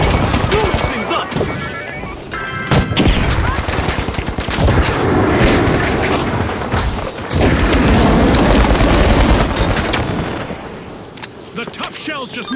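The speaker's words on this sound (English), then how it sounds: "Two grenades set! Blowing things up!" Grenades exploding in an arena game, heard as loud dense bursts of blasts and rapid gunfire-like cracks that fill the clip almost continuously, with only brief dips between volleys.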